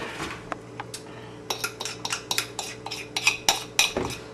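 A utensil stirs a dessert mixture in a bowl, making a close run of irregular scraping clinks and taps that grow busier and more rhythmic, with no voices.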